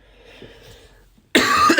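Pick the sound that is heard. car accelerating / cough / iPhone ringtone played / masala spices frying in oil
cough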